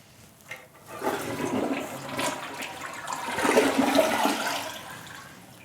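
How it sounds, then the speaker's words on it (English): A toilet tank refills with water during a toilet replacement, a steady rushing hiss and gurgle that swells gradually and stays close and continuous with no talking. "As my tank's filling, I'm gonna fill below where we tightened our tank nuts"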